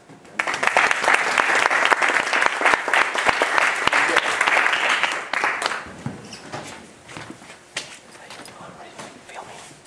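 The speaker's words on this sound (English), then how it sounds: "give him a warm applause" A lecture audience at a Pomodoro technique seminar applauds to welcome the speaker, a dense, loud burst of clapping for about five seconds that then thins and fades into quieter room noise.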